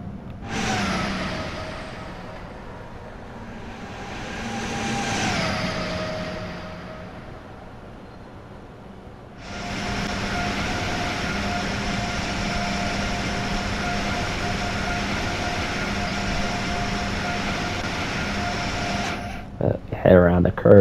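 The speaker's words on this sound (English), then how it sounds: "Fast moving train approaching." An Amtrak Acela Express in Train Sim World 5: rumble builds and swells, then a loud steady roar of cars rushing past a station for several seconds, ending abruptly with clanks.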